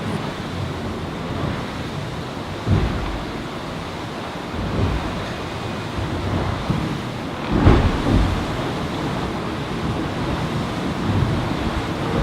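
Strong wind and rushing waves aboard a racing yacht sailing fast in warm offshore conditions, a steady loud roar with occasional surges of spray and gusts buffeting the microphone.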